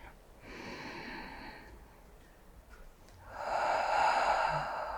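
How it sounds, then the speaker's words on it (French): A person breathes slowly and audibly during a shoulder and neck massage, with one long breath, a pause, then a louder, stronger exhale, all close and soft with no talk. "je vais laisser mon modèle respirer"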